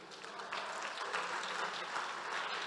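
Steady, soft applause from a church congregation during a sermon, a continuous wash of clapping heard from a distance.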